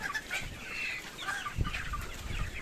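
Several chickens and roosters cluck steadily at close range, with a few short squawks and low bumps breaking through the hens' chatter; no one speaks.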